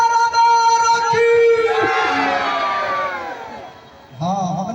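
Audience at a Bhojpuri wedding stage show in Khagaria shouting and cheering loudly in a sustained crowd roar, with a performer's voice and music tones running over it before a short dip and a fresh burst.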